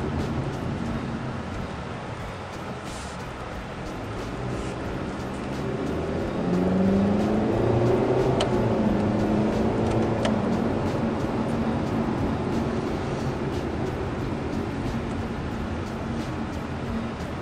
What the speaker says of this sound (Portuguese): dou uma reduzida para a segunda, e se eu responder, você percebe o câmbio simulando as trocas de marcha.